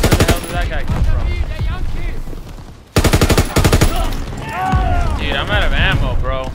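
Rapid machine-gun fire in a WW2 video game campaign, loud close bursts of rattling shots in two long volleys with a brief break between, while a voice talks over the gunfire.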